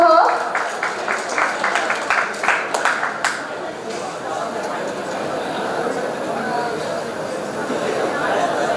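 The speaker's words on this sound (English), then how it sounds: "Let's have a huge round of applause for her." Audience at a college IT fest claps for a prize winner, with a burst of distinct claps at first that settles into steady crowd applause and background chatter.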